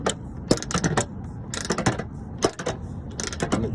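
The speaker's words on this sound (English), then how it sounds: "Just tightening up the screw right here." Repeated ratcheting clicks and creaks from a screw being tightened by hand on a 2012-2015 Toyota Prius front bumper, coming in quick bursts of close, crisp mechanical ticks with short pauses between them.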